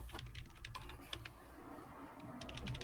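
Quiet keyboard typing during a podcast recording, a steady patter of soft key clicks running throughout, slightly busier near the end.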